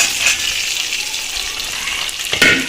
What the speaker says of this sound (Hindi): चलो अब टमाटर प्याज डाल देते हैं।